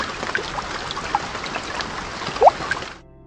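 Steady rain patters and trickles outdoors, a continuous close wash of drops with a few brighter splashes, cutting off abruptly near the end.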